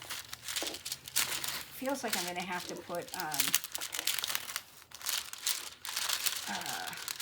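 Stuck release paper being peeled and worked off a DAC kit part, a run of crinkling and tearing rustles close by, with a person talking over the sound.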